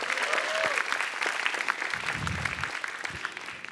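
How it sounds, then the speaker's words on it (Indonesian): Audience applause at a stand-up comedy show, steady clapping from a crowd filling the whole stretch, with a few cheers and a brief low rumble partway through. "Tepuk tangan dulu dong buat MNC"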